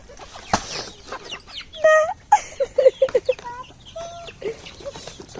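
Young chickens by a newly built cage clucking and peeping up close, with a quick run of short clucks in the middle and scattered chirps throughout.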